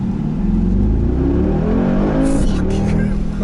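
A 2019 Mercedes-AMG G63's V8 roars at full throttle, a loud continuous rising engine note close inside the cabin, with a brief voice over it.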